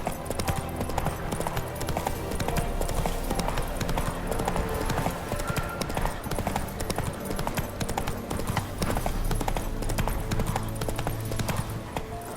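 Horse hooves gallop in a steady, fast clip-clop rhythm through The Witcher 3, loud and continuous over a dense game soundscape of music and ambience.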